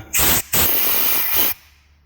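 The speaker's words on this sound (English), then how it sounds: "put the brake clean in, squirt it all out of there" Brake cleaner sprayed from an aerosol can into bolt holes on a 2017 ZR 9000 Turbo snowmobile, heard as three close, loud hissing bursts separated by short pauses.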